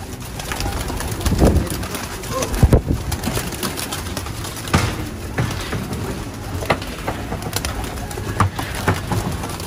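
Pigeons coo repeatedly inside a Virginia Beach pigeon loft, a steady chorus of soft, overlapping coos with occasional louder flutters and bumps nearby.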